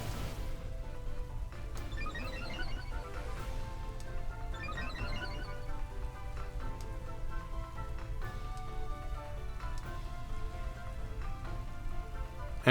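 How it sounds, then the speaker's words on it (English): Steady rainfall ambience from the Pokémon Sword and Shield video game plays continuously at a soft, even level, a constant hiss of falling rain with faint musical tones layered underneath. "I just want to try to get a Spore off, especially while the rain is still up."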